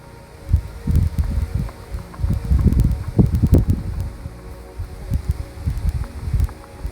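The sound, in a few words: wind outdoors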